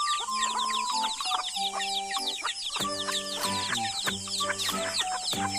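A flock of farm chickens clucks continuously up close, dense overlapping bursts of calls that rise and fall with no voices.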